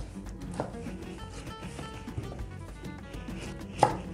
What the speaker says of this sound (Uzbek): Mana shu xonada yog'larni ham kesib olamiz